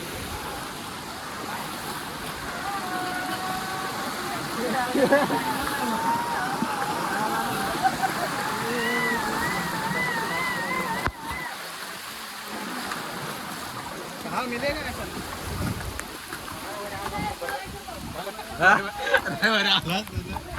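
A waterfall and flowing water at Kalu Waterfall in Malshej Ghat rush in a continuous broadband roar, with someone talking over the water noise and brief crowd sounds.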